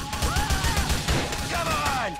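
Rapid bursts of gunfire crackle steadily in GTA IV: The Lost and Damned, with a few sliding electronic tones over a dense, continuous racket.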